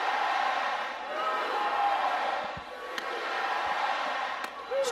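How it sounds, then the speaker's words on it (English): Stadium crowd at a Women's College World Series softball game, Oklahoma versus Texas, keeps up a steady, moderately distant roar of cheering, with a few sharp claps or bangs standing out from the wash of noise. "How about this crowd right here?"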